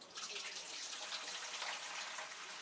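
Water gushes and splashes steadily into a basin for washing dishes, a faint, continuous hiss of pouring with no pauses.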